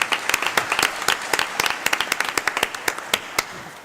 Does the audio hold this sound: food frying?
no